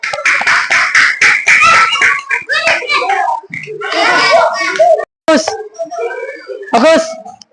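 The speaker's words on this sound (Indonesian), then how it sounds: "Beri tepuk tangan untuk kelompok 2." Schoolchildren clapping for a group in a classroom, several quick sharp claps at the start and then bursts of loud children's voices and chatter, with scattered handclaps among them.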